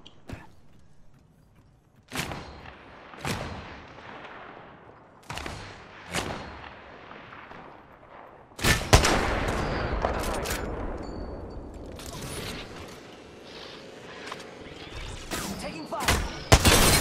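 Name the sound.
gunfire in a video game, Apex Legends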